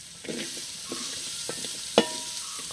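Sliced onions hitting hot oil for a beef biryani, a soft steady sizzle with a few scraping stirs and one sharp clack of a utensil against the pan.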